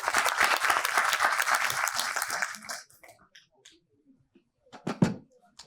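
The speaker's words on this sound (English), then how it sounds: "Kindly welcome him on stage with a huge round of applause." Audience applause welcoming a speaker on stage at a finance conclave, a loud burst for about three seconds that abruptly fades, followed by near silence and a few faint knocks and rustles.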